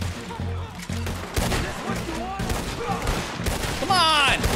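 Rapid gunfire in Red Dead Redemption 2 during a fight against the U.S. Army, with repeated loud shots and bursts layered over game noise and excited voices talking throughout.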